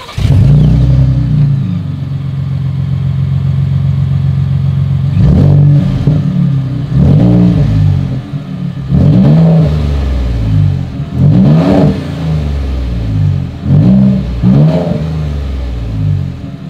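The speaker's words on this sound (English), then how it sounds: "As always, here is that exhaust clip." A 2020 Ford Raptor pickup's exhaust idles steadily, then gets revved hard in about five sharp, loud blips, each swelling and falling back, recorded up close in snow with no talking.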